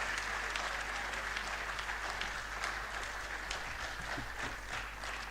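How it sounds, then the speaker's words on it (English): Audience at a university convocation lecture in Lagos keeps up steady applause while awaiting a former Minister of Works and Housing, a dense, even patter of many hands in a large hall, quiet and distant over a low hum. "Keep clapping until he comes for his closing remarks."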